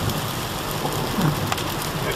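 Steady, dense hiss of heavy rain pounding on a moving van, continuous and loud, with scattered sharper drop impacts and a low road rumble underneath.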